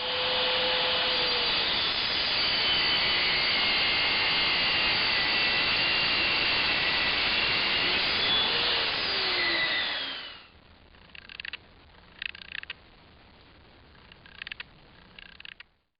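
A Parkside track saw from Lidl, fitted with its stock blade, cuts loudly and steadily for about ten seconds, a continuous high whine, then stops, leaving quieter handling clatter and bumps.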